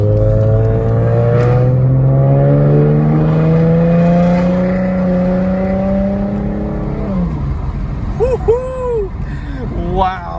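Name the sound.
Mustang with Roush exhaust revving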